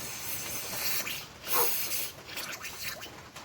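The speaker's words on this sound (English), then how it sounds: "Give her a nice little spray out here with some brake parts cleaner." A steady aerosol spray of brake parts cleaner hisses in close bursts into a Toro 521 snow blower's carburetor area, a loud pressurized spritz with no talking.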